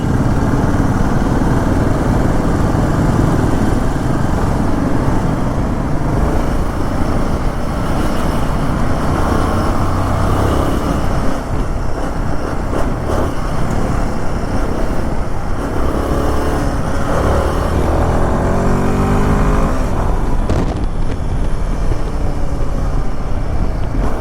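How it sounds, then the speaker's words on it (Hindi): Dense road traffic around a Royal Enfield Himalayan on a weekend ride near Hyderabad, with engines droning and rumbling steadily and loudly throughout, close passing vehicles and no speech. "थोड़ा सा ट्रैफिक है।"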